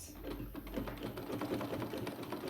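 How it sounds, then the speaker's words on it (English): A sewing machine stitches a sleeve into the armhole of a flare dress, with a fast, even mechanical rattle of the needle running close by at low volume. "Now this is me stitching the sleeve to the armhole like that."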